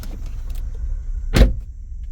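An electric window motor in a salvage-auction BMW X3 whirs briefly, with one sharp, close thump near the end and a faint low hum in the background.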